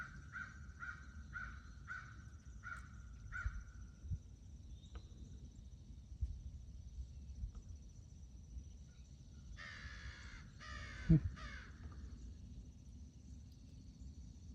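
A crow caws in a quick run of repeated calls, then later a burst of harsher cawing as crows squabble, over faint insect buzzing and low outdoor rumble on a Midwest inland waterway.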